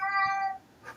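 A cat meows once with a drawn-out, harmonic cry lasting about half a second, followed after a pause by a short second call, close by and fairly clear over a quiet room.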